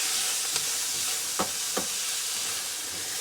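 Onion and sugar sizzle steadily in a hot pan, a broad hiss with a few small pops and stirring clicks, close and alone.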